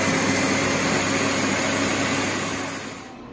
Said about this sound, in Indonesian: Terus langsung kita blend. Nah, kasar aja kita blendnya